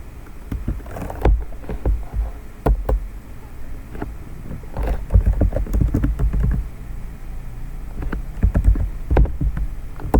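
Fingers tap on a computer keyboard while entering Cisco router commands, scattered close clicks and short bursts of keystrokes with uneven pauses.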